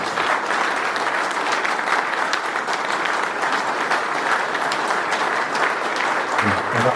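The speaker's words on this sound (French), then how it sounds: "je propose d'ailleurs qu'on vous applaudisse également" A hall full of guests at a press gala claps steadily and loudly, a dense, even wash of applause holding for the whole stretch.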